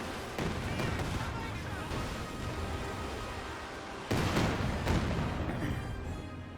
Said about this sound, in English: here comes a Katusha Barrage